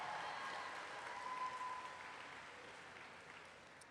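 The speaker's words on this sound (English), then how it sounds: "can we give him another round of applause?" Applause from a convocation audience fills the hall, a steady, moderately loud wash of clapping that slowly fades toward the end.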